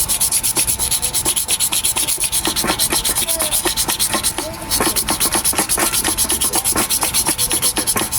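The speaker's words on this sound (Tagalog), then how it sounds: "So, lihain muna natin no." A part of a Nikon industrial fan is sanded by hand, fast back-and-forth abrasive strokes rasping loudly and steadily at close range, with a brief pause midway.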